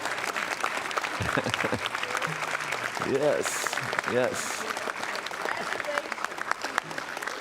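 A congregation applauds during a church service, sustained steady clapping with a voice speaking briefly over it and a few cheers breaking through.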